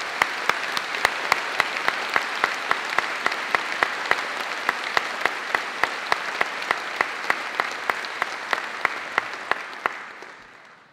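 Graduation audience at Birmingham City University giving a warm round of applause to Birmingham Conservatoire musicians: dense, sustained clapping from a large crowd, with a few sharp rhythmic claps standing out before it fades at the end.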